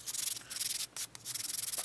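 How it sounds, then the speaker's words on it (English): A model rocket fin is sanded by hand, with rapid back-and-forth rasping strokes in a quick rhythm, close and clear, with a brief pause near the middle and no talking. "so I'm going to continue sanding, but don't forget about the edges"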